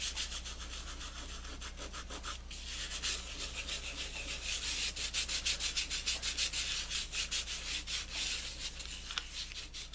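Glitter is rubbed by hand into sticky tape, giving a close, soft, continuous rubbing and scratching with quick back-and-forth strokes that grow more rhythmic toward the end, with no talk.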